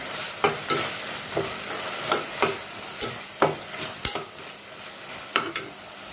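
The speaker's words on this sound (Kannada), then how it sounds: "ಇದನ್ನು ಚೆನ್ನಾಗಿ ಮಿಕ್ಸ್ ಮಾಡ್ಕೊಂಡು ಫ್ರೈ ಮಾಡ್ಕೊಂಡು ಸೈಡಲ್ಲೆಲ್ಲ ಎಣ್ಣೆ ಬಿಡಬೇಕು" Khara bath masala fries in oil in a pan with a steady background sizzle, while a spoon repeatedly scrapes and stirs, giving sharp clacks every half second or so, close and with no voices.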